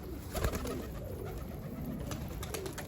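Soft pigeon cooing repeats in a low, rolling rhythm, somewhat distant, over a steady background hum.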